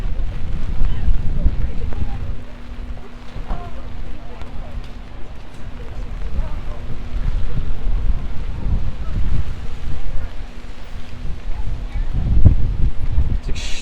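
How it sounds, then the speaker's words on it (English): Strong wind buffeting a microphone on a rainy New York City street near Spring Street, a constant low roaring rumble with gusty swells throughout, and a voice talking faintly underneath. "It's extremely windy."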